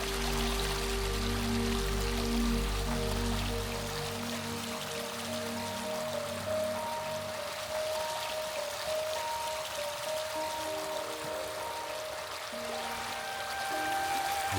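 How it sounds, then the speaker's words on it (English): Gentle stream flowing beneath the Anthony Hay cabinet maker's shop in Colonial Williamsburg in winter, a steady soft trickle and burble of water running throughout, with no talk. "gleaming on the stream underneath the Anthony Hay shop, the cabinet maker shop. And even over here, a little more of a gentle flow"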